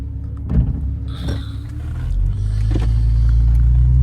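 Porsche 911 engine on the move, a low cabin rumble that builds steadily into a stronger drone, with a few knocks and creaks from the car near the start.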